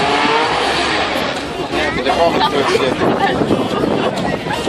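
A loud Ford Escort rally car engine idles and revs continuously at a motor show, with a rough, throaty tone and a crowd murmuring in the background.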